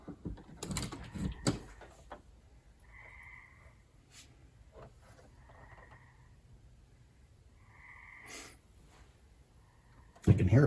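A Coca-Cola clock mechanism, just plugged in, whirs faintly, its low hum overlaid by a few short mechanical creaks and scrapes, with clattering handling noise at the start and a loud knock at the end.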